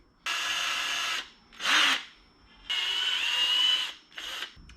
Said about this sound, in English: Now, all we have to do is drill a hole right through it.